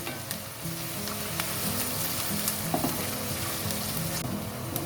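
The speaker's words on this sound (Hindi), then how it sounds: "प्याज हमारी भून रही है" Steady sizzling of onions and green chilies frying in a pan, a continuous crackling hiss with occasional soft pops and light stirring, no voices.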